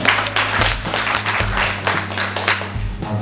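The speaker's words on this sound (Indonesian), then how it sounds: "Tepuk tangan untuk Pak Direktur." An audience claps at a school anti-bullying declaration event, steady applause across the whole stretch over a low droning hum.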